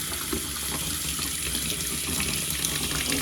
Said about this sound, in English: we are going to turn the water on and check for leaks